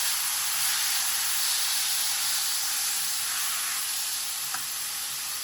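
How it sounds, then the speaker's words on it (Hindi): Carrots fry in ghee in a kadai, giving a steady, bright sizzle and hiss that holds evenly throughout, close and moderately loud, with one brief clink near the end and no voices. "अब मैं इसमें गाजरें डाल दूंगी। गाजरों को 2 मिनट हम भूनेंगे।"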